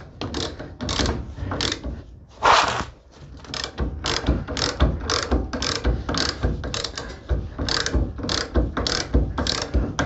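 A ratchet drives a new wheel bearing nut tight on a car trailer axle, giving quick, evenly spaced clicking strokes in a close, dry series with one brief heavier scrape midway.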